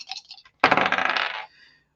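A die or dice dropped onto a hard surface for a tarot reading, a few light clicks followed by a sharp clatter and brief rattling that settles within about a second, close and clear with no talking.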